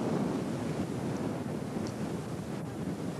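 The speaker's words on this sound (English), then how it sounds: "It's windy as usual." Wind buffets the microphone in a continuous, rumbling roar at Ubehebe Crater in Death Valley, gusting slightly but never letting up; no one speaks.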